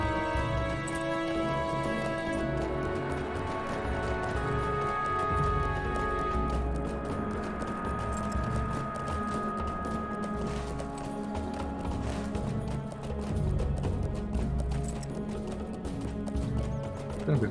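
Horse hooves clip-clopping with neighing in the video game Lord of the Rings Online, steady hoofbeats and a whinny sitting under a dense, loud layer of game music and ambience throughout.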